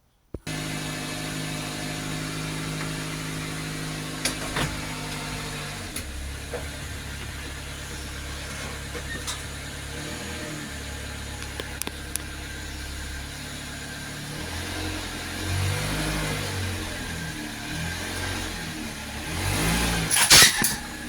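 A car engine idles and then revs in bursts as the vehicle creeps forward onto a 5-ton hydraulic car ramp, with a low rumble and occasional clunks nearby.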